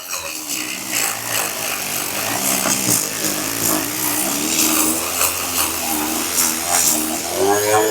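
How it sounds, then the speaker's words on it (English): A die grinder working as a hand filing machine, giving a steady, loud, continuous whine with a rough, buzzing grind that holds without pause. "That is how to use the hand filing machine."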